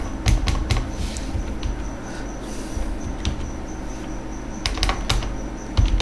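Keystrokes on a computer keyboard while writing C++ code, several quick clicks in short bursts with pauses between, close and moderately loud against a low room hum.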